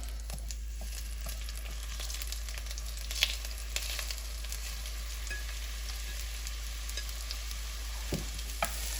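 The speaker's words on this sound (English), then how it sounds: "I'm now going to caramelize onions." Onions caramelizing in olive oil in a preheated Dutch oven, a steady soft sizzle with occasional light clinks and stirring scrapes over a constant low hum.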